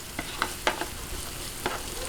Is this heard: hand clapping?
no